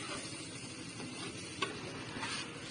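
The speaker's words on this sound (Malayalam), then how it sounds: "ഇനി ഇതെല്ലാം കൂടെ ഇട്ട് നമ്മൾ ചേർത്ത് ഇളക്കി ഇനി കുത്താൻ പോവുകയാണിത്" Kothu parotta with chicken masala is stirred in a pan: a faint, continuous scraping and soft sizzling with one small clack of a utensil partway through.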